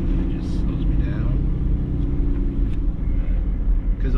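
A compound-turbo 5.9L Cummins dually truck downshifts from fifth to fourth without an exhaust brake, its low engine rumble steady and close beneath someone talking.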